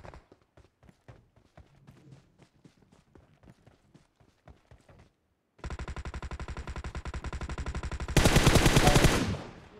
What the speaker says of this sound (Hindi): देख ना फायरिंग चल रहा है। किल मिल रहा है।